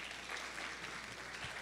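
Audience applause welcoming a speaker at a scientific lecture, an even, fairly quiet spread of clapping from a room, sustained without gaps.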